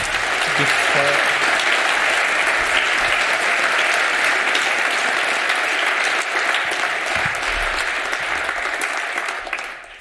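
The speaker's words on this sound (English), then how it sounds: "Let's give a round of applause." A large conference audience at a CCC talk gives loud, sustained applause after the lecture, a dense unbroken roar of clapping that holds steady for about ten seconds before easing off at the end.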